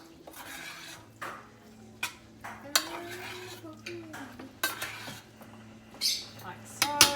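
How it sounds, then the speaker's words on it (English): Pasta being stirred and mixed in a pan while cooking dinner, with scraping clinks of a utensil against the metal at an uneven rhythm, close up and fairly quiet. "Mix it around just to spread it out a bit."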